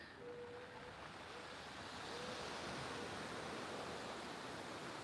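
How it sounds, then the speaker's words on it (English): Sea waves wash far up the beach at Port de Soller, Mallorca, a steady broadband roar of surf that swells slightly louder midway and continues without pause, with no voices. "Just give you some sounds of the sea here, look."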